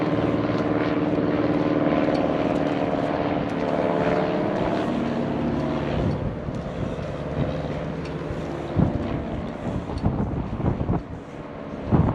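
A low, steady aircraft engine drone that swells and then thins out as the plane passes overhead and descends to land at Dundee airport, with some wind rumble.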